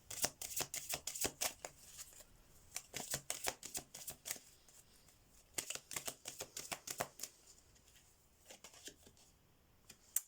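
Oracle and message cards being shuffled in rapid bursts of crisp riffling flutters with short pauses between, close and fairly quiet, with no talking.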